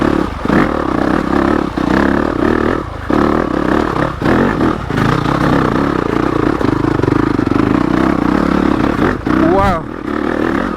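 A Yamaha YZ250FX dirt bike with a 270 big bore kit and Hotcams stage 2 cams runs trail sections in third gear. Its engine drones loud and steady with brief dips, and gravel clatters and scrapes under the wheels.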